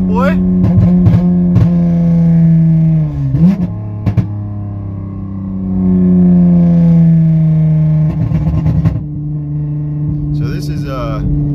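A 2009 Honda Accord V6 coupe with a straight pipe exhaust and electric cut-out drones loudly from inside the cabin, pitch gliding slightly up and down, with a few short bursts and crackles breaking through.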